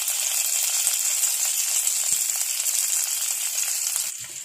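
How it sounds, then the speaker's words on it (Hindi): Chopped curry leaves hit hot oil already crackling with mustard seeds over a low flame, making a loud, steady, dense sizzle that fills the whole stretch and eases slightly at the very end. "कटा हुआ करी लीफ डाल लेंगे।"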